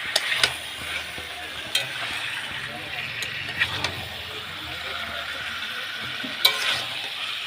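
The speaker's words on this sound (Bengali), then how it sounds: "মাংসটা ভালো করে কষতে হবে।" Meat stir-fried in spice paste in a pan, a low steady sizzle with scattered clinks and scrapes of a spoon stirring, close and moderately quiet, with no one speaking.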